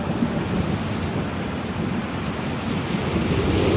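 A simulated thunderstorm with rain on the Universal Studios Hollywood tram tour roars as a loud, dense, continuous wash of rumbling and pouring water, steady and building slightly toward the end.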